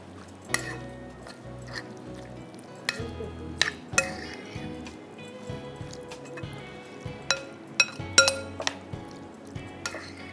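Ingredients mixed in a bowl with a utensil, giving repeated sharp clinks and taps against the bowl at an irregular rhythm over soft stirring and squishing, close and alone, with no talking.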